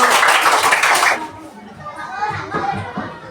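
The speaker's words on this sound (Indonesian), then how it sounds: "Tepuk tangannya dulu." A classroom of children claps together in a loud, dense burst lasting about a second, then breaks off into scattered kids' chatter and a few voices.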